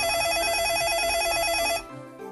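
A VoIP phone rings on an incoming call routed through a two-channel VoIP gateway. Its loud electronic ring warbles rapidly and steadily, then cuts off abruptly, leaving a quieter background.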